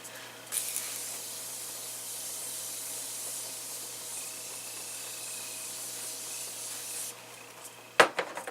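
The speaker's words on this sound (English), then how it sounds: "I'm just going to healthy spray. I'm using the Morphe continuous setting spray." A steady, close hiss of Morphe Continuous Setting Spray, a makeup setting spray, runs unbroken for about seven seconds, then stops, followed by a light clatter.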